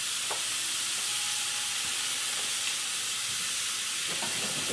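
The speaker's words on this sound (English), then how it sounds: "Next thing we're going to do, we're going to go ahead and put in our ground beef." Ground beef and chopped onion sizzle in a hot pan for a shepherd's pie, a loud, steady frying hiss with a few faint scraping stirs and no talk.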